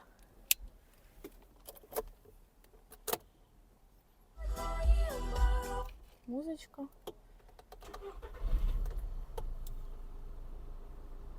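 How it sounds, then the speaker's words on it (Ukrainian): A 2012 Skoda Octavia A5 is started from inside the cabin: faint clicks and key sounds first, then a loud burst as the engine catches, settling into a low idle while someone speaks briefly. "Зараз ми давайте заведемо автомобіль."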